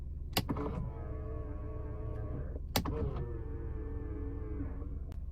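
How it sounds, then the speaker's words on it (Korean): Electric folding side mirrors on a used Renault Samsung SM3 whir through two motor cycles, each starting with a sharp click and humming for about two seconds, close and clear with no talking. "접이식 사이드미러"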